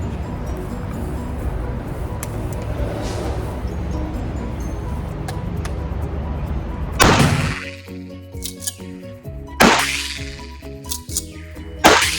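A Benelli Supernova Tactical pump shotgun with a 14-inch barrel firing buckshot at a range target 27 metres away: several loud, sharp blasts spaced a couple of seconds apart, each ringing out briefly after a stretch of steady background noise.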